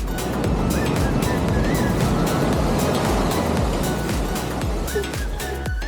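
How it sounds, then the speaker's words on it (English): Loud, continuous surf roars and churns at Kelingking Beach, Nusa Penida, with wind buffeting the microphone, waves breaking close by without a pause. "when waves come crashing"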